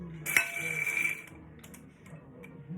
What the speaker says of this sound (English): So I already have a cup of my pumpkin seeds ready to go into this bowl.